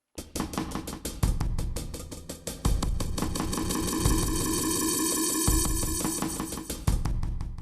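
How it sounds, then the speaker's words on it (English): A controlled audio feedback loop built in Reason software with a short delay time, giving dense pulsing tonal layers with sustained ringing harmonics that swell and shift in steady repeated bursts. "So that's a very controlled feedback signal."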